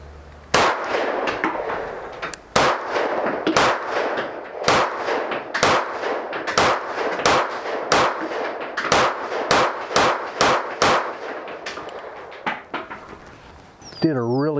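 Sharp, loud pistol shots from a SAR USA B6C fired at a 7-yard target, about twenty evenly spaced reports in a steady rhythm, each with a short ringing tail, followed by a faint metallic clink at the end.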